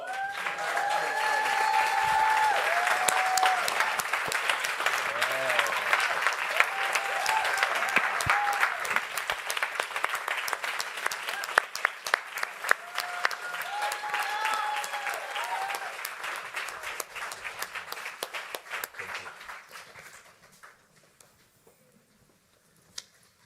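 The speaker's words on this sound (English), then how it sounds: "another round of applause." Another round of applause from the audience at the launch of The Graterford Archive, sustained clapping with some voices mixed in, steady for most of the stretch before thinning into scattered claps and trailing off near the end.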